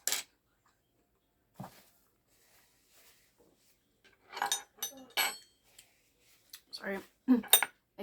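Metal spoon clinking against dishes during a breakfast meal of omelette, sausage biscuit and hash browns: sparse, sharp chinks and scrapes scattered over quiet pauses, with faint voice sounds between.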